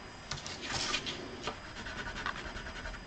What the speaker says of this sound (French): Je vais gommer